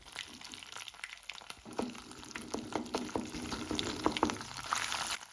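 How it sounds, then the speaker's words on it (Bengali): Lard melting in a hot pan sizzles steadily while a utensil stirs and scrapes through it, producing repeated clicks and scrapes over a continuous crackling fry, close and without talk. "শীতলটা যাতে খুব তাড়াতাড়ি গলে যায়, জন্য আমি ভালোভাবে এটাকে নাড়াচাড়া করছি।"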